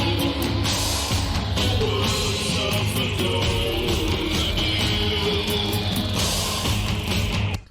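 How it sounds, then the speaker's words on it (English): Hard-hitting rock drums from a song pound steadily within a dense, loud full-band mix, strong transient hits running for several seconds before cutting off abruptly. "So there's really hard-hitting drums in that section."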